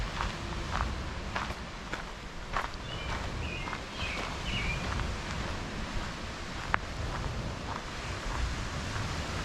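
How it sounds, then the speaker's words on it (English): Ocean waves crash on the shore below the old coastal defense towers near Vancouver, a constant broad roar with wind buffeting the microphone and occasional footsteps or crunches nearby. "you can hear the waves crashing on the shore"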